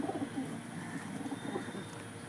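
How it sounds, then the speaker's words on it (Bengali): A pair of Kaldumar Regdar pigeons coo softly in low, throaty bursts, close by and continuous, with no talk over them. "এটা কালদুমার রেগদার পায়রা"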